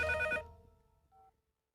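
A telephone bell rings loudly for a short burst, then cuts off and fades, followed by a faint brief tone as the call is picked up.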